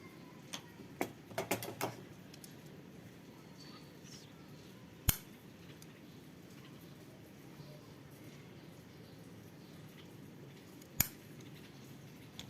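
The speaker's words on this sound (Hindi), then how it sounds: "काट लेंगे यहाँ से" Scissors snip through fabric while cutting a diamond-shaped neck design, with a quick cluster of crisp snips early on and isolated louder cuts later, close up in a quiet room.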